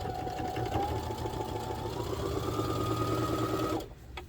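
A sewing machine stitches a second row along a kangaroo apron pocket, running steadily and close for about four seconds before stopping abruptly near the end.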